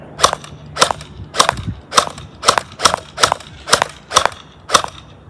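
An X-Shot toy blaster fires on semi-auto at a person's back: nine sharp, snappy shots at a steady, evenly spaced rhythm, close and loud with brief mechanical clatter between pops.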